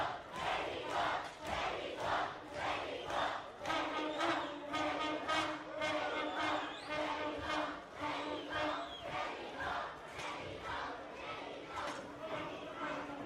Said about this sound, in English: As this crowd continues to show their displeasure for the Border Patrol